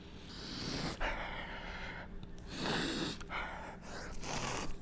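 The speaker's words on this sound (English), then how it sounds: "Sniff test." A person takes several close, breathy sniffs of a slice of burnt toast, in short bursts with pauses between them.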